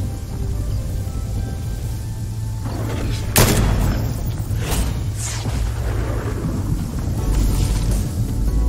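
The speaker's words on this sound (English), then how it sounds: "I let the storm eliminate me on purpose." Thunder from the storm in the video game Fortnite gives a sharp crack followed by deep rolling rumbles over a steady rain-like wash, loud and continuous.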